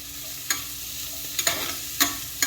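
Onions frying in a pan for homemade cheeseburger macaroni, a steady soft sizzle broken by four sharp clinks and scrapes of a utensil stirring against the pan.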